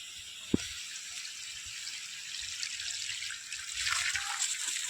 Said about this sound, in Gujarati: આપણે પાણી ચાલુ કરી દીધું છે પાણી જોઈ શકો છો